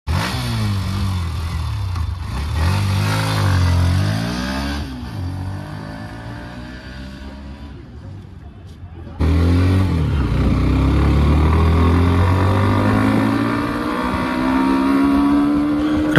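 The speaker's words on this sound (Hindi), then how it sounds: "और अभी हम इसके एक बार टेस्ट ड्राइव भी करके देखते हैं बाइक चलने में कैसी है" Hero Xtreme 125R motorcycle engine on a test ride, loud and close, revving up and down in repeated pitch sweeps, easing off briefly before opening up again.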